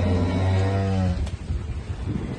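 Hungry cattle on a farm at evening feeding time give a loud, close, drawn-out moo lasting about a second, followed by quieter rustling and shuffling with no talk.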